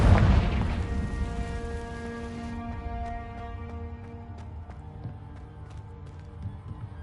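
A Confringo spell explosion in Hogwarts Legacy: a single loud blast at the start that decays into a long ringing magical shimmer, followed by scattered faint crackles and sparkling ticks.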